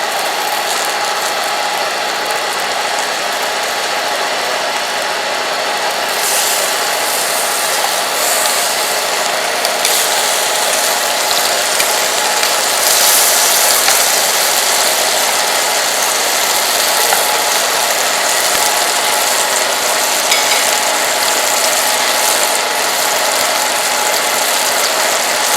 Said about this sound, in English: There goes our compressor.